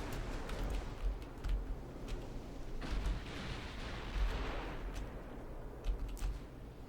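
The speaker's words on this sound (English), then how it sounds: "Why are some of the turrets firing high explosive and the other turrets firing AP?" Naval turret guns fire in Ultimate Admiral Dreadnoughts, 18-inch guns among them: repeated distant booms and sharp cracks scattered over a low rumbling wash of battle noise.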